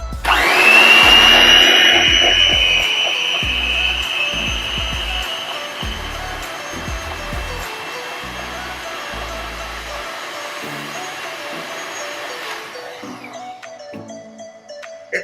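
An electric mixer whirs loudly and steadily as it beats oil-based carrot cake batter, its tone shifting slightly as the mix thickens, with low background music underneath.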